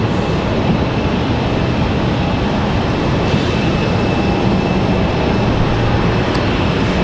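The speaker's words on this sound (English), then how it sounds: "American 174 departing at 6:15." American Airlines plane departing Raleigh Durham airport, likely a 777, a steady loud broadband jet roar that holds constant throughout with no speech.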